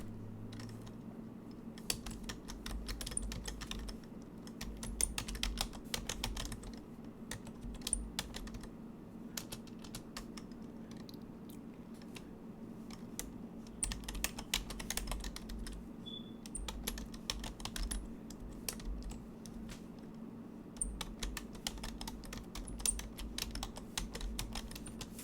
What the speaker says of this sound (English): let me type this into the chat window